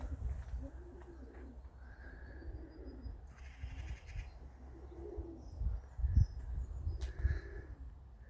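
Irish Old School Tumbler pigeons coo softly in a loft alongside a few faint chirps, over low rumbling background noise.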